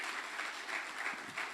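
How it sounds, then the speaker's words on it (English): Continuous applause from an audience for a professor after a spring lecture, a dense, even patter of many hands clapping at moderate volume. "Another round of applause. Let's sustain it until she takes her seat."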